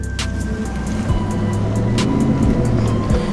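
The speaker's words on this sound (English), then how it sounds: "right now, just cruising through the parking lot, truck is driving pretty good" A 2003 Chevrolet Silverado pickup with about 200,000 miles and a faulty transmission cruises slowly through a parking lot, its low engine hum and road rumble steady and close, with faint ticking clicks above.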